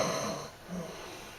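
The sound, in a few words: voice imitating a roommate's snore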